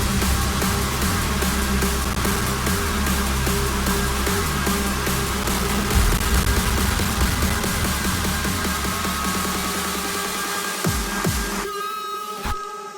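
Electronic dance track buildup with dense layered synths, pulsing drums and rising sweeps, loud and continuous throughout, thinning out near the end with sparse hits before a final crash.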